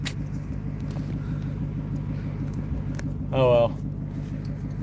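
A Ford Mustang GT350 idles down after hard driving with the AC on, its steady low rumble continuous and close, and a brief spoken remark cuts in near the end.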